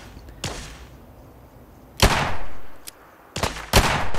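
Gunfire in Fallout 4 comes as sharp, loud reports: a single shot, then a heavier blast, then a quick pair of shots, each trailing off in echo over quiet background ambience.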